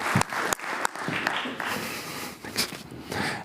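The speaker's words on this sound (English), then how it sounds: "A big round of applause for these three gentlemen, Heiko, Herbert and Martijn." Scattered, uneven clapping at a cybersecurity conference, with a few sharp individual claps over softer, patchy applause and some footstep-like thuds.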